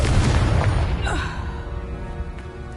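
A deep booming blast from the Confringo fire spell in Hogwarts Legacy, loud at first with a low rumble that slowly fades, with faint whooshing detail trailing off.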